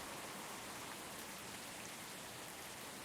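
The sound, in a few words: heavy rain in the video game Tower! Simulator 3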